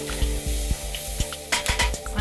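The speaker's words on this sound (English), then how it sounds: "So you want to soften the onions a little bit before you add the rest of the vegetables." Onions softening in a pan for curry chicken with potatoes, a steady sizzling fry broken by regular soft knocks and scrapes of a stirring utensil, close and fairly loud with no talking.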